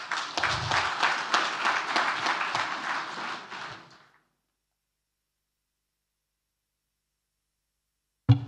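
Applause from an audience at an awards ceremony opening, loud dense clapping for about four seconds that fades out into silence.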